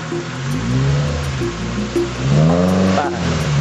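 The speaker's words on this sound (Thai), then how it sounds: "โอ้โหเสียงเครื่องกำลัง" A vehicle engine drones steadily up close on a trip through Salakphra Wildlife Sanctuary, Thailand, its pitch rising and falling as it revs, with a rushing background wash.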